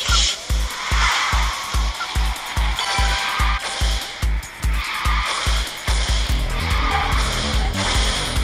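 A Wuling Mira racing in QQ Speed Mobile, its engine droning steadily with tire squeals and skids as it corners, a continuous loud run without talk.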